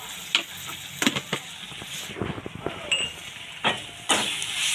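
Spices stirred and fried in a pan for spinach dal, with soft sizzling broken by sharp scraping strokes of a spatula at irregular intervals, close and fairly quiet.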